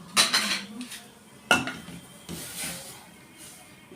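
A spoon stirs rice and milk in a metal cooking pot, giving a few sharp clinks and scrapes against the pot with softer stirring between, close and fairly quiet.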